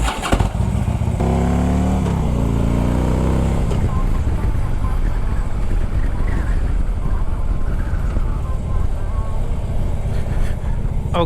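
A Harley Davidson Street Glide motorcycle starts and then revs, with a rising engine tone in the first seconds that settles into a loud, continuous rumble close by as the ride begins.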